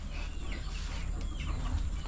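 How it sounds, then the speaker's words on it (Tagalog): Chickens cluck and chatter faintly against a low rumbling background, a busy, continuous farmyard murmur. "Oh, dami mong manok, ah."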